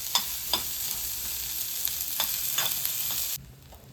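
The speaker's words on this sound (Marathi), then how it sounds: "आता कांदा भाजून झालेला आहे असा लालसर रंगावर" Onion frying and being stirred in a pan while making amti masala, a continuous close sizzle broken by several sharp scrapes of the spoon, then cutting to near quiet just before the end.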